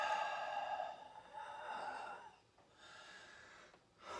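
Deep breathing exercise done beside a vent blowing very dry air from a fire: long, steady breaths in and out, close and fairly loud, with a brief quiet gap before a final inhale.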